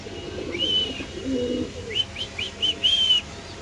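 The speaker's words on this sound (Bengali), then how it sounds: "ড্রাগনের ডাক দেখেন ভাই" Dragon-breed pigeons at a large pigeon farm in Mirpur 13 call close by: a series of short whistling coos, a few spaced notes then a quicker cluster of calls near the end, against a low background murmur.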